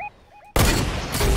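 Gunfire in the video game Fortnite: after a short quiet stretch with faint tones, a sudden loud burst of rapid shots fills the rest of the moment.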